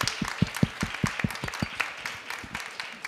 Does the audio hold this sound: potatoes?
no